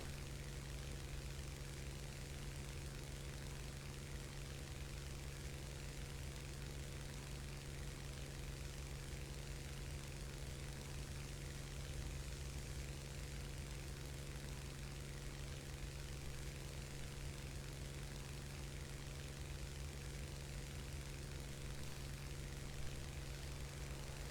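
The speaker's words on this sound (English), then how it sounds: "I always get nervous when I'm hearing other planes around me" Steady low engine drone of aircraft in the War Thunder realistic air battle game, a constant unbroken hum with heavy low rumble and broad hiss throughout, no talk.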